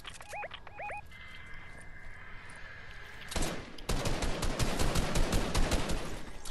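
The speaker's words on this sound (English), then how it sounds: "There's people over there shooting at us." Battle royale game gunfire: a few chirpy alert tones early, then from midway a dense burst of rapid shots and rattling automatic fire, loud and sustained to the end.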